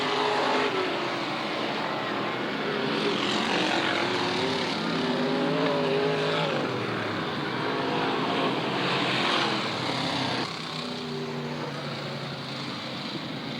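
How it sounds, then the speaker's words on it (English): Race cars circling at Southern Oregon Speedway, engines droning and rising in pitch as they pass at a moderate distance, with continuous roaring crowd-level track noise throughout. "And Glover takes over the lead"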